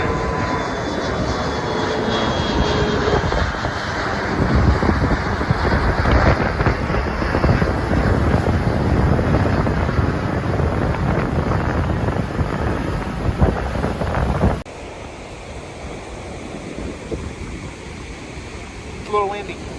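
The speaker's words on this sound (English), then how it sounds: "It's a little windy. It's windy," Wind by the sea roars loudly across the microphone in a dense, steady rush for most of the clip, then cuts to a quieter, calmer background.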